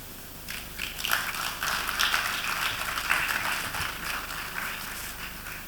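Conference audience at a law gathering applauds after a speech, a dense, even roll of clapping that swells slightly in the middle and carries on for several seconds.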